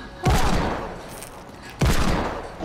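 Two loud, booming hand cannon shots in a video game, about a second and a half apart, each a sharp blast with a short decaying tail over faint background.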